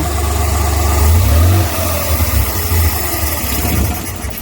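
A Multicab carburetor engine runs loud and close, revs up briefly, drops back to a rough idle, then fades as it shuts off.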